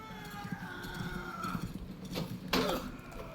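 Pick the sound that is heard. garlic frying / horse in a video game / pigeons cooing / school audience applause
horse in a video game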